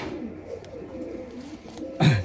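Indian Laldom pigeons cooing in low, soft rolling phrases throughout, with a louder burst of cooing close by near the end; faint background noise underneath.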